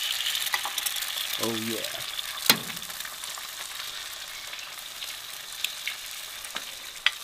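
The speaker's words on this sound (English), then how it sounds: "Spring onions are on cooking." Chopped spring onions sizzle steadily in a pan, a constant bright crackle throughout with a few sharp clicks of utensils, while a voice speaks briefly near the start.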